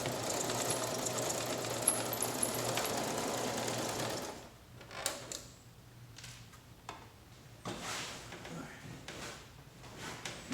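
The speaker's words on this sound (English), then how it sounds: "sewing the other wedge in place on the other side of that half of the" A sewing machine stitches a wedge onto a yurt roof, running in a steady fast whir for several seconds, then stopping and starting in short bursts with clicks and fabric handling between them.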